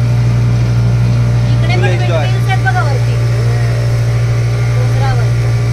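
Motorboat engine droning steadily on a boating safari at Tapola on the Koyna reservoir, a constant low hum throughout with brief voices and faint chatter over it.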